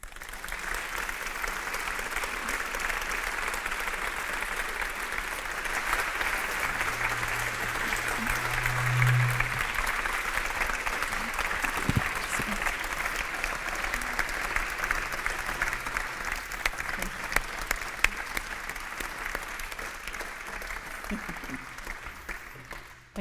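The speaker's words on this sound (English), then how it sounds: "Another round of applause for Julia Gittler." Sustained audience applause fills a lecture hall after a speech at a women in public life event, steady and continuous from start to finish with no voices over it.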